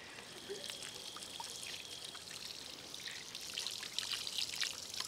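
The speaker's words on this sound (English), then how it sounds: "Okay, so they've got little taps at a right angle." Water runs steadily from small right-angled taps at a hand-washing station outside a shrine in central Seoul, a close, continuous trickle and splash with brighter spattering toward the end.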